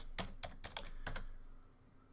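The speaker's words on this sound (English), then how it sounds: "If I can type again." A short burst of typing on a computer keyboard, about six quick, crisp keystrokes close by in a quiet room, then stillness.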